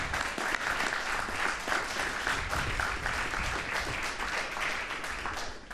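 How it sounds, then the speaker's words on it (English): Audience applauding police officers at a police department awards ceremony, a dense, even roar of many hands clapping that carries steadily for several seconds without talk over it. "one more round of applause for these guys"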